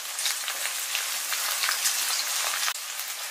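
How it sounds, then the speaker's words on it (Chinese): Pork belly stir-frying in a hot wok with scallion, ginger and garlic, giving a steady, close, dense sizzle and crackle of rendered fat throughout, with no talk. "继续给它煸炒出香味"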